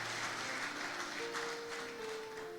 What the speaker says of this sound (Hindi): जोरदार तालियां बजाना,